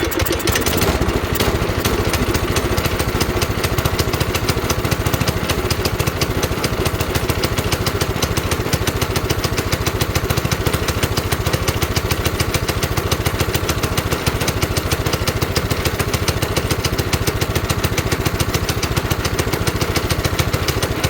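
A small engine with a new carburetor idles steadily on its own with the choke off, a continuous chugging drone that stays even and close throughout.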